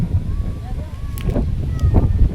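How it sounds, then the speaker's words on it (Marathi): Strong wind buffets the microphone in a low, constant rumble on the climb to Asheri Fort, with faint voices and brief noises over it. "खूप जास्त वारा आहे"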